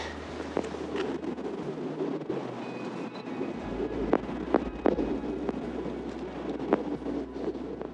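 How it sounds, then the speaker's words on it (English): Strong, cold wind roars and buffets the microphone throughout in the Blue Mountains, with deep low rumbles and occasional sharp gusts, sounding close and continuous. "it is so windy and cold"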